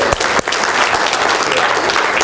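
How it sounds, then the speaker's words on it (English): An audience breaks into loud, steady applause, dense overlapping claps filling the room for a couple of seconds with a brief dip near the start. "Give him a round of applause for hearing that"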